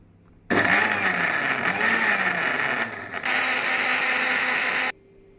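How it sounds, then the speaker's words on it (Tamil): An electric blender grinds red bananas into a smoothie, a loud steady motor whine that starts abruptly, dips briefly midway, then runs on before cutting off, close and with no speech. "இப்பொழுது இது நம் நன்றாக அரைத்து எடுத்துக்கொள்ளலாம்"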